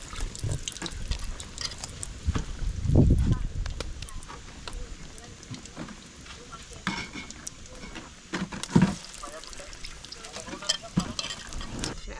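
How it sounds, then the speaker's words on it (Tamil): Vada dropped into hot oil give off a bubbling fry with watery splashes and clatter in a home kitchen, loudest in a couple of bursts, while people talk in the background. "எண்ணெய் நல்லா கொதிச்சிட்டு வடையை போடுவோம்"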